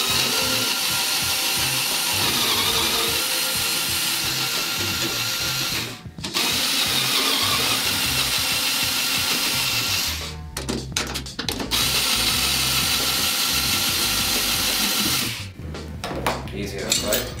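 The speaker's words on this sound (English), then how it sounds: "you want to loosen the lugs across from each other" A tool works loose the lugs on a gramophone drum head, in a steady mechanical grinding and clicking run that is loud and continuous, broken by brief pauses.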